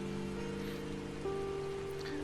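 Steady rain falls in a detective video game, a continuous even patter with a low hum and faint tonal game ambience underneath, no voices.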